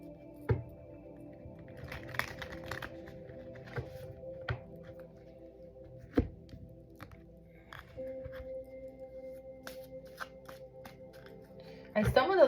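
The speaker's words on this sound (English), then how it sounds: "Let me shuffle the cards here for Gemini." Tarot cards being shuffled by hand in sparse, uneven riffles and soft taps, close and quiet, with a few sharper card slaps and a louder burst at the end; no talking over it.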